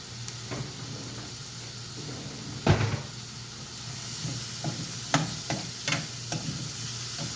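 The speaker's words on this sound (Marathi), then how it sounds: "सगळा कांदा टाकते तेलात आणि छानपैकी त्याला परतून घेते" Onion frying in oil in a pan: a steady soft sizzle runs throughout, broken by sharp knocks and scrapes of stirring.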